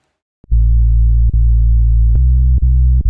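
Deep sustained synthesizer drop tone with a heavy low sine-like body, detuned by a fine-tune knob, giving small pitch shifts and clicks at each knob movement, loud and alone.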